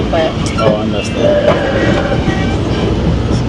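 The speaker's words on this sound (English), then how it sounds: "So now the train is moving." A passenger train moving out of a station near the CN Tower, a loud steady rolling rumble with faint wheel clatter and squeal, while people talk in the carriage.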